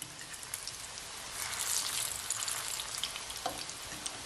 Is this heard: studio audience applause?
no